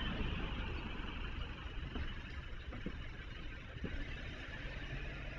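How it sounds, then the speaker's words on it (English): From a security camera mounted about 10 to 15 meters away, a car passes at a distance, its engine a broad, steady wash of road noise. No one speaks. "And here's a clip when a car drives by."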